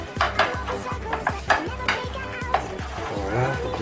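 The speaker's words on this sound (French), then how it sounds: "Voilà, faut bien mélanger." Pasta salad with feta being stirred in a dish, a steady run of scraping, clattering utensil strokes in a quick rhythm, close and fairly loud, with no talking.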